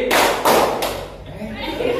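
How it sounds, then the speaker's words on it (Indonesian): Two hand claps sound close and loud in quick succession within a classroom exercise, followed by a quieter, fading room tail. "Tepuk 2 kali"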